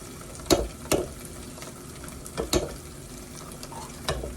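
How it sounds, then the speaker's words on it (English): A spoon stirs tomato paste into onions, garlic and oil frying in a pot, giving several distinct scraping strokes at uneven intervals over a faint, steady sizzle. "And I'm going to stir this in here. And I'm gonna let this cook up really good and mix up well with the onions and the garlic and the oil"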